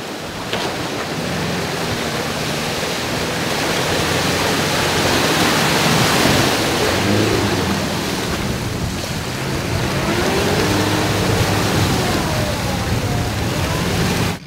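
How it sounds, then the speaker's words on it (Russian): A vehicle pushing through a small river choked with water, mud and slush ice, giving a loud continuous rushing, splashing wash with engine drone underneath, swelling in the middle and holding steady for the whole stretch. "Мешанина из воды, грязи и ледяного крошева превращает сравнительно небольшую речку в серьезную преграду."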